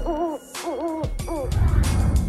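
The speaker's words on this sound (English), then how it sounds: "I have a wise owl that lives in my room." Three wavering hoots from an owl, each rising and falling, sound in quick succession over a rap beat with backing music and rhythm continuing underneath.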